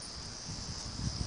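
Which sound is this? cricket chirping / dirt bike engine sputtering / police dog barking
cricket chirping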